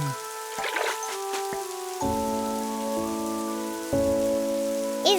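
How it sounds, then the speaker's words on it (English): Steady rain patters down, mixed with gentle sustained musical chords that shift a few times. "And now it's starting to rain."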